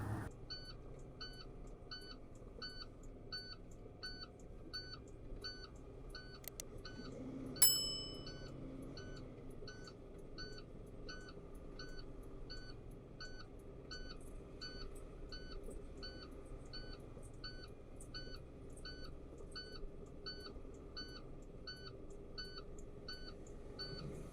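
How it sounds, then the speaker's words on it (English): A steady, regular electronic beeping from a truck's PDL lock warning repeats throughout, fairly faint over a low cab rumble, with one brief sharp clunk early on. "That beeping sound in the background is my PDL lock."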